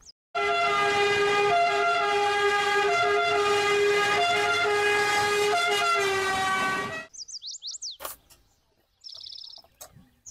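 A toy ambulance siren blares a loud, steady electronic tone for several seconds, then stops and gives way to a few quick chirping beeps.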